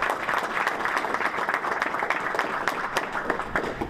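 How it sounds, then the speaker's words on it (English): A room of guests at a Major League Rugby announcement welcoming the new Chicago franchise breaks into dense, sustained applause, loud and even throughout with no talking. "Let's give him a big round of applause."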